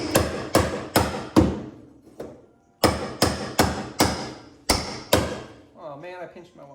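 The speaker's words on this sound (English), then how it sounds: "Grab me metal hammer and then a wide chisel" A metal hammer strikes a wide chisel on a VW Baja Bug rear conversion, about a dozen sharp, close blows in quick clusters with short pauses between them, followed by a person talking at the end.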